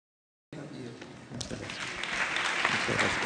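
Applause from a panel-discussion audience starts abruptly after a brief silence, swelling into sustained, dense clapping that grows slightly louder toward the end, with a few indistinct voices mixed in.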